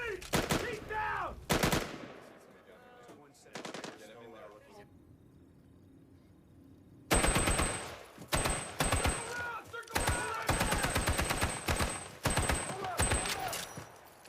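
Bursts of firearm gunfire during an armed raid, sharp rapid volleys and single cracks close by, broken by a quieter pause, with shouted voices in between.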